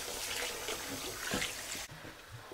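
Rice being washed in water in a kitchen while a bottle gourd biryani is cooked; steady sloshing and running water close by, continuous for most of the clip, then dropping to a quieter rustle near the end.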